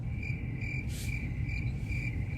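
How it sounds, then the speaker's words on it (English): Crickets chirp in a steady, repeating high trill, with a brief louder burst partway through, as an added comedic sound effect with no voices. "All right, crickets."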